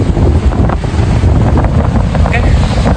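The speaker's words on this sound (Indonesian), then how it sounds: "Jadi di sini angin kuat, ombak kuat" Strong wind and heavy waves on an island beach, a loud, constant roar of gusts buffeting the microphone over crashing surf.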